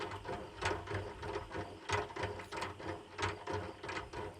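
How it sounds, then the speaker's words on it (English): A cheap 4-frame honey extractor spins its frames with a rhythmic mechanical whirring and a repeating clatter from the gears and rattling parts. The sound is steady and close, with no talk. "So the extractor uses centrifugal force and forces all of the honey out of the comb."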